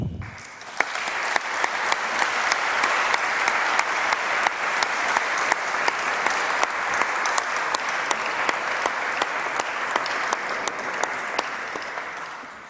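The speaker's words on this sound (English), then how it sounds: "The warmth and rapturous applause is an indication of how well your speech was received." A conference audience applauds after a speech at a shipping and law session, with sustained, dense clapping from many hands that begins abruptly and carries on evenly for over twelve seconds.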